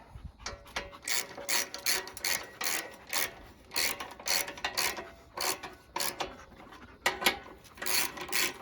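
A hand ratchet snugs up the exhaust bolts on a Husqvarna LGTH 24V54 riding mower, with quick bursts of clicking in an uneven rhythm, close by and moderately quiet.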